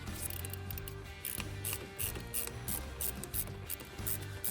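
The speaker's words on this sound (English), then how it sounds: "Put on this wrench right here. Back it off. We're gonna go counterclockwise." A ratchet wrench clicks in repeated quick bursts as it backs off the 10mm nuts on a car battery terminal, turning counterclockwise, close up and loud, with no talking.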